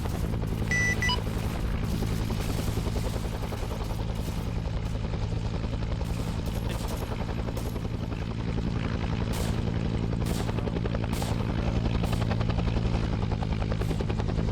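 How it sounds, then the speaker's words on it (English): A helicopter lifts off in a Vietnam War video game, its engine and rotor making a steady, loud drone that fills the whole stretch, with faint scattered booms and gunfire in the distance. "Oh, the helo's taking off."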